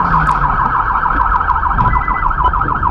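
A police car siren wails loud and close on a Brazilian street, its rapid rising-and-falling yelp cycling steadily with engine rumble underneath and no voices.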